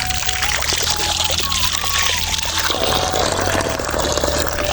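Groundwater pours from a pipeline in a continuous loud gush with a steady splashing rush, very close, while a voice talks faintly underneath.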